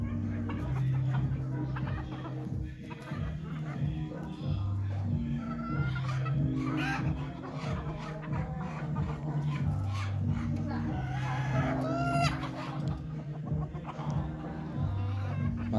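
Native village chickens, with about five roosters among them, cluck at a moderate distance in the morning, and a rooster crows toward the end over a steady low background hum.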